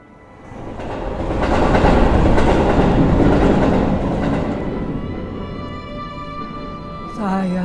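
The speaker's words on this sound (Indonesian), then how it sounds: "Begitu kereta itu lewat" A train rumbles past close by, swelling into a loud roar with rhythmic clatter of wheels on the rails, then easing into a steadier, fading run with a brief louder burst at the end; no talk.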